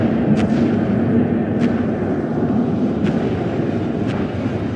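A Titan blowing up in a space video game: a continuous heavy rumbling roar with several sharp cracking bursts spaced about a second apart, loud and without talk.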